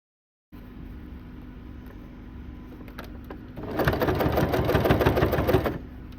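A sewing machine stitches bias binding onto a seam allowance for a sling bag. It hums quietly at first, then runs faster and louder in a rapid chattering burst for about two seconds before easing back to a low idle.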